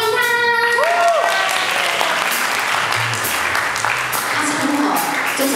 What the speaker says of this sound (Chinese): 大家最热情的掌声欢迎他。